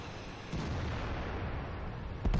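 An IS-7 heavy tank in a tank video game fires a single booming shot, a loud low blast with rumbling tail that sits over steady engine and battle noise.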